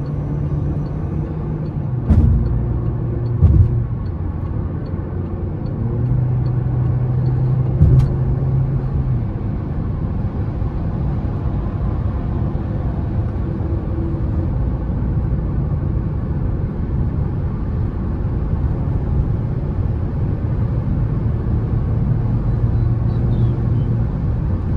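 Steady cabin drone of a 2022 Citroën C4 Cactus Feel with its naturally aspirated engine cruising at 120 km/h, a constant low rumble with road noise and a few faint clicks, no talk.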